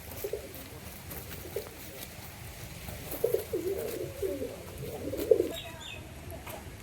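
Soft, low cooing from a male pigeon comes in a few short bursts against faint background noise, quiet and fairly close.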